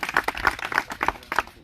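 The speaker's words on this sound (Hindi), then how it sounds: "एक बार ताली बजाओ जोरदार" An audience at a home business meeting claps together, a short burst of scattered hand claps, fairly close and moderately loud.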